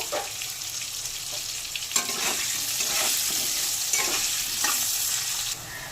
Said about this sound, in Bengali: আলুগুলো নুন দিয়ে ভেজে নেব